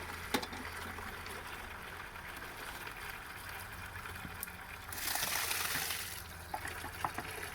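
Pinot Noir grape juice trickles steadily inside a grape press, a low continuous liquid wash that swells into a stronger gush for a moment before settling back to a soft dribble.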